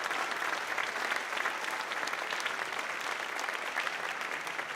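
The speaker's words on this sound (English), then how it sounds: "So give yourselves a big round of applause." Steady, sustained applause from a large audience at a youth jazz competition prize giving, dense and even throughout with no talk over it.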